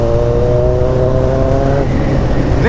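A 2011 Kawasaki ZX-14 motorcycle fitted with a full 2.5-inch Atalla stainless steel exhaust, its engine droning loud and close with a steady tonal whine and wind rush, then a quick rising rev at the end.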